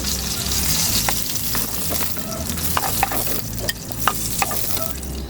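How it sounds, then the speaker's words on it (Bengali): Pieces of rohu fish fry in hot oil with a steady, loud sizzle, broken by sharp crackles and spatters and the occasional scrape of a utensil. "মাছগুলো প্রায় ভাজা হয়ে গিয়েছে"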